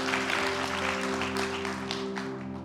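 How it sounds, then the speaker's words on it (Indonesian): A church congregation at a gospel service claps and cheers together, a dense, sustained burst of applause over a steady low musical hum, fading slightly at the end. "Berikan sorak-sorai bagi Tuhan kita."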